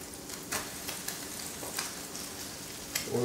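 Crab cake meat sizzling in hot oil in a pan, a soft, steady frying crackle with a few sharper spits, fairly quiet and without talk.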